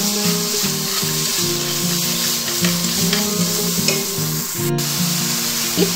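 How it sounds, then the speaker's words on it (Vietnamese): Meat stir-frying in a hot pan with golden fried onion and garlic, a loud continuous sizzle broken by repeated rhythmic scraping strokes of a spatula, close and steady with no talking. "Khi cái hành tỏi này nó đã vàng thì mình cho cái thịt vào mình xào trước."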